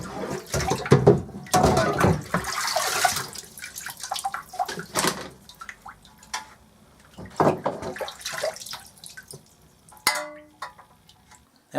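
Water splashes and runs while a saxophone is rinsed out after cleaning around its tone holes, irregular close-up bursts of pouring and dripping with short pauses and a louder splash near the end.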